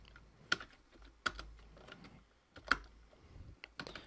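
Quiet typing on a computer keyboard, with a few sharp, distinct key clicks spaced apart and soft tapping between them.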